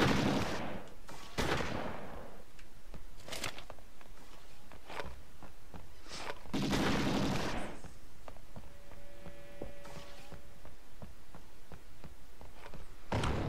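Gunfire from a weapon in the Xbox shooter XIII during a multiplayer match: several loud, sharp bursts spread across the span, with lighter footsteps and game noise between them and no talking.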